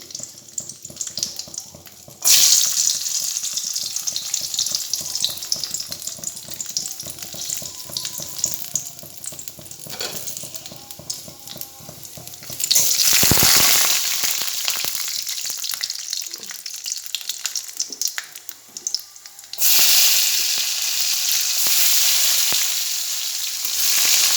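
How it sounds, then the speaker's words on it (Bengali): Cashew nuts frying in a home kitchen pan, a loud steady sizzle broken by a quieter stretch with running tap water and stirring clatter before the hissing returns. "কাজুগুলো একটু ভেজে নেব।"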